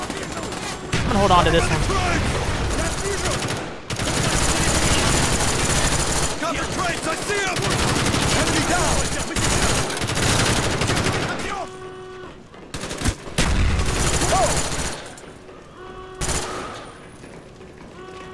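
Rapid automatic gunfire and bursts of shots from Call of Duty: Black Ops, loud and nearly continuous through most of the stretch with brief gaps, while a player talks over the action.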